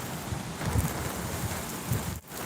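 Rain falls outdoors as a steady, soft hiss with light gusts of wind, continuous and fairly faint, with a brief dip near the end.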